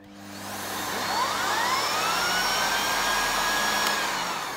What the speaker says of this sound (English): Now, I would have bought this vacuum cleaner just because it does that.